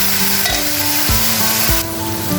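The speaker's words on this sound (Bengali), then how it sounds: "এই যে পেঁয়াজের সঙ্গে আমি শুটকিটা ভাজবো" Dried fish (shutki) frying with onion in a pan gives a loud, continuous sizzle, broken by a few scraping stirs of a spatula. No one speaks.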